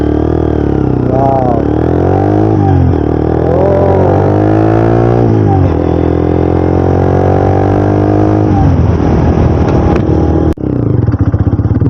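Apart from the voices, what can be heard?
Taro GP One motorcycle exhaust sound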